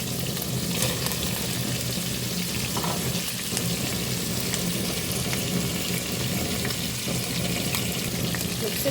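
Fresh tomatoes hit a hot pan of spicy prawn karahi, giving a continuous soft sizzle and crackle of frying at moderate distance, with faint clinks and stirring throughout.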